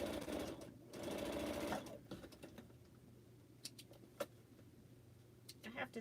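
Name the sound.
sewing machine sewing pineapple quilt block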